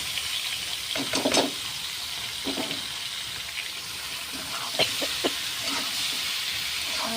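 Small pieces of rita fish are slipped a few at a time into hot oil with cumin, producing a continuous sizzle with scattered bursts of crackle and spatter up close.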